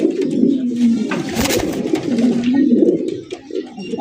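Red Bombay pigeons cooing continuously and close, a steady low throaty rolling coo with brief gaps, no talk over it.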